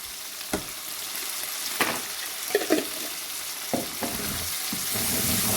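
Spoon stirring mung and masoor dal soup in a cooking pot, with a few soft clinking scrapes and gentle sizzle over a steady low hiss.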